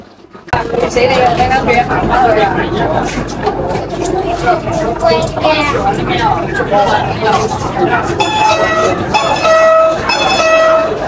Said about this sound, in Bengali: এই যে ট্রেন এসে গেছে